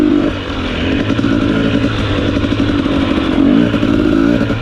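A 2021 KTM 250 XC TPI two-stroke dirt bike is ridden close by, its engine buzzing loudly and steadily with rising and falling revs and some mechanical clatter throughout.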